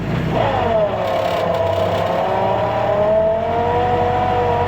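A 1954 Willys Jeep off-road with its rear wheels spinning, heard from inside the cabin as a loud, continuous engine drone with slowly shifting pitch under a steady rumble.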